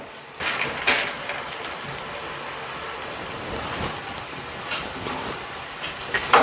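Fried bitter gourd, eggplant and other vegetables for Bengali shukto land and sizzle in a hot pan, a continuous close hiss and crackle with a few louder spatters and stirring clatters.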